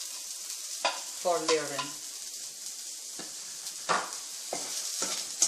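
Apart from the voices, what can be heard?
onions caramelizing, frying and being stirred in a pan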